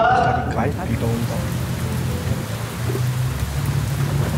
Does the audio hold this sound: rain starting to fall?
yes